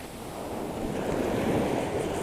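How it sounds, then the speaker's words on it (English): Winter sea waves break and wash up a beach where someone is surf fishing, a loud, close surge that builds and holds, with wind buffeting the microphone and no talk. "Don't trust those waves, guys."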